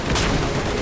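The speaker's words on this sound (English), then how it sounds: "I'm using this suppressed pistol with not a lot of like loud booming" Gunfire from a suppressed pistol in the video game Mass Effect 3, heard as a loud, dense, noisy burst of combat sound that fills the whole short moment with no clear gaps and no voices.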